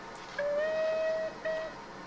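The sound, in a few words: steam locomotive whistle toot, Train Simulator 2021 video game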